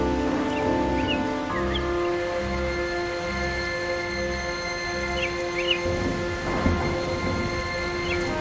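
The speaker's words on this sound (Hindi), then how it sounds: "अरे मुई बारिश, थोड़ा रुक भी जा।" Steady rainfall with low thunder rumbling underneath, mixed with faint droning tones and a few chirps.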